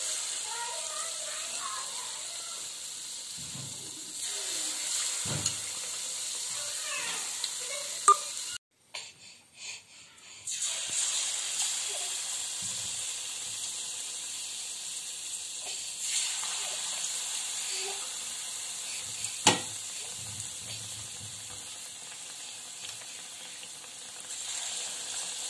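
Banana fritters (pazhampori) frying in hot oil in a Kerala-style kitchen, a steady soft sizzle and hiss running throughout, with a brief clatter partway through and occasional quiet voices.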